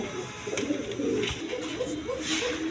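Pigeons from a quality breeding stock offered for sale with eggs and chicks coo repeatedly in a steady low throbbing rhythm, close and moderately loud, with faint background noise and no talk.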